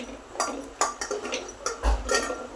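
Small pieces of red pumpkin dropped into a pressure cooker in a home kitchen give a series of soft clunks and clinks on metal, several short knocks spread irregularly over a couple of seconds, close and fairly quiet.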